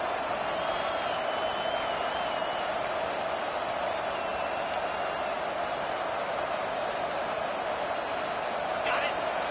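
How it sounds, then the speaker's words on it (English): A large football stadium crowd roars loudly and continuously during a first-and-goal play, a steady wash of noise with scattered whistles and shouts rising through it. "This offense trying to quieten the crowd on 1st and goal, and they are not cooperating."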